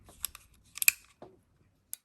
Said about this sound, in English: Cut those extra little pieces off.